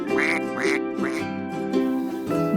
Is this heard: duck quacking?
yes